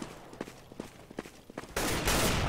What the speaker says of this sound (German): Schöner Schuss von Skelly.